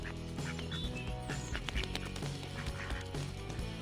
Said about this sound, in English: They can swim gracefully and make quacking sounds.